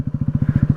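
A 2023 Kawasaki Z125 Pro motorcycle accelerating through a parking lot, its small engine giving a quick, steady train of low, throbbing exhaust pulses that stay close and fairly loud for under a second.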